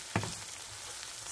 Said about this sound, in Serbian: ovdje mi se već prži luk i šargarepica